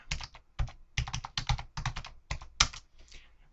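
Password keys tapped on a computer keyboard attached to a Linux box: a quick, close run of crisp clicks in uneven bursts, with no voices.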